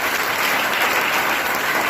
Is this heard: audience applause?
yes